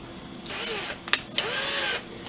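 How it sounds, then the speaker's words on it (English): A power drill fitted with a 2mm bit runs in two high-pitched whirring bursts while drilling a breathing hole into the plastic housing of an O2NE+ device, with a short clicking pause between the bursts. "The next step is to fit the 2mm drill bit into your drill"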